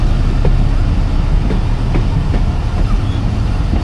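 Hazara Express passenger train pulling away, a steady loud rumble with faint rhythmic clicks of wheels over rail joints running throughout.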